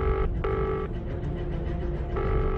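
A telephone rings loudly and close by, sounding two electronic ring bursts with a gap between them, with no voices over it.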